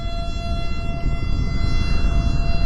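Loud, sustained civil-defense style siren in The Island Mystery video game, a steady wailing tone with layered harmonics over a heavy low rumble, holding for the whole stretch without speech.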